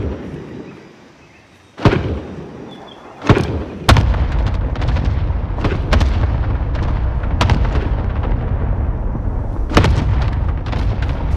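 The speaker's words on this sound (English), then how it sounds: "Need an airstrike on my position now!" Heavy booming explosions from an airstrike in Call of Duty Warzone, several sharp blasts landing over a few seconds, then a dense sustained rumble with further scattered impacts, loud and close.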